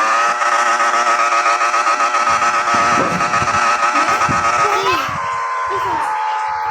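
A child imitates a motorbike engine with the voice, producing a loud, continuous buzzing vroom that rises and falls in pitch, starting close and strong and easing slightly near the end.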